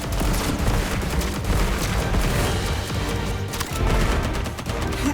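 Dense, relentless gunfire and explosions from the Contra video game, rapid overlapping shots and booms forming a loud, continuous barrage with no pauses.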